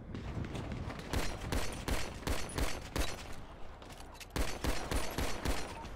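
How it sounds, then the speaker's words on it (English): Gunfire in the video game GTA 5 roleplay, rapid bursts of loud shots crackling in quick repeated volleys across the whole stretch, close and dense with short gaps. "Oh, who's shooting?"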